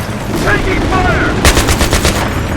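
Sustained rapid gunfire in combat around an M1 Abrams tank outside a city, a dense loud rattle of automatic bursts over heavy low rumble, with shouted voices mixed in.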